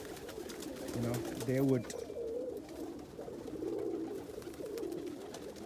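Pigeons coo in a loft on a freezing day, a short deep rolling coo standing out early while someone talks over the birds.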